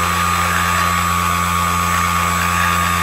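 A Flyzone Millennium Master RC plane's electric motor runs at quarter throttle. It gives off a steady, unbroken tonal whine and hum at close range that holds constant throughout, with no speech.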